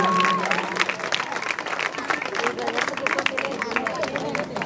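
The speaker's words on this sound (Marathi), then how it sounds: "जोरदार टाळ्या वाजवा, खूप छान." Audience at a lively village women's gathering clapping together, a dense, sustained burst of applause with crowd chatter mixed in.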